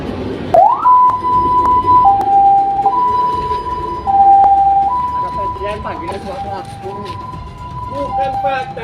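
A loud two-tone ambulance siren alternates steadily between high and low pitches close by on a street blocked by a celebration party, with people talking and shouting in Indonesian underneath throughout.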